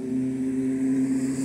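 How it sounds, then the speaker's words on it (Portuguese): A Porsche drives by on a city street, its engine a steady, fairly loud hum holding at an even level throughout. "Olha uma Porsche aí, ó."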